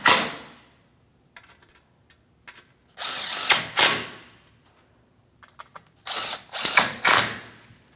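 A power tool snugging the front control arm bolts on a 2016-2025 Chevrolet Malibu, heard as several short ratcheting bursts with pauses and light clinks between them, close and loud.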